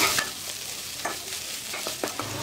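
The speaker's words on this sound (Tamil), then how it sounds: "இப்படி எல்லாத்தையும் சேர்த்து நல்லா மிக்ஸ் பண்ணி விட்டுடலாம்." Vegetable spring roll filling with chili powder and garam masala is stirred and sautéed in a pan: a brief close sizzle with several sharp scraping strokes of a spoon against the pan, no talking.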